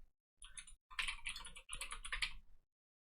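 A search keyword is typed on a computer keyboard in three quick close bursts of crisp key clicks, then silence.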